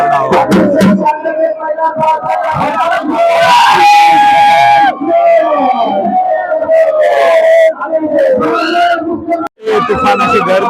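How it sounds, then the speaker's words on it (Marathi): A dense, roaring crowd shouts and yells at a traditional wrestling bout between wrestlers Sikandar Shaikh and Amin Beniya, loud and sustained throughout, with strained voices rising and wailing above the din. "तुफान अशी गर्दी होती गोंधळ होता"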